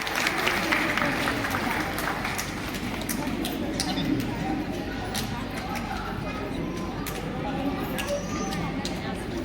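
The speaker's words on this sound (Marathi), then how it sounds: "उपस्थित पाहुण्यांनी जोरात टाळ्या वाजवायचं एकदा" Guests at an engagement ceremony clap together in a steady, dense patter of applause that runs throughout, close and fairly loud, with crowd murmur mixed underneath.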